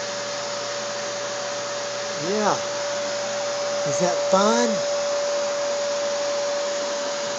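A vacuum cleaner runs continuously with a steady, loud motor whine throughout, while a child and an adult speak briefly over it.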